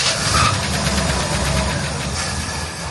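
The 1964 Chevelle's engine running after revival, a loud steady idle with a rough, slightly knocking throb that carries on evenly without talk.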